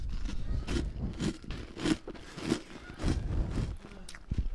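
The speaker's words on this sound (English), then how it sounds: "Very crispy, crunchy, as you can hear." Crunchy cereal is chewed close to the microphone, with a steady rhythm of crisp bites and crunches repeating over several seconds.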